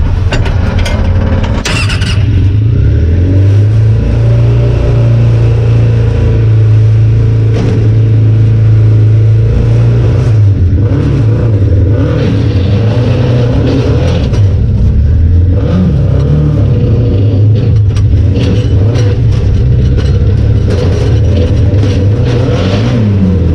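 Off-road vehicle engine labouring loudly as it climbs a hill, eases off to roll back and revs again, a continuous close drone with surges and dips.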